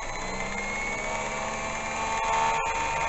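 A metalworking machine cutting new vice jaws spins steadily at about 1600 RPM, giving a continuous close whine and hum with a couple of brief clicks near the end and no voices.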